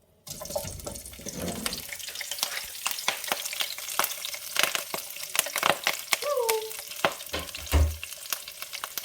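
Beef and broccoli stir-fried in a pan: a steady, loud sizzle with frequent clacks and scrapes of a utensil tossing the food, and a brief voice-like sound partway through.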